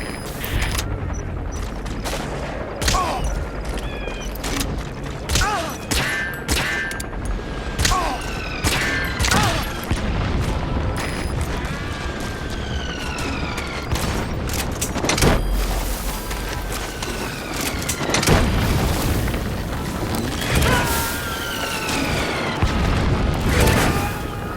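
Gunfire and explosions in Metal Gear Solid V: The Phantom Pain, dense rapid shots with repeated booms, thuds and whizzing projectiles, loud and continuous throughout.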